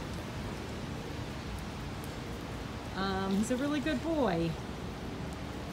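Steady rain hiss fills the clip while someone speaks briefly partway through.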